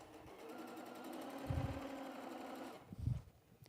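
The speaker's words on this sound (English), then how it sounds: "I'm just sewing these together, and I'm just doing them randomly." A sewing machine stitches quilt binding strips together with a steady, close mechanical whirr, ending with brief thumps as the stitching stops; no voice is heard.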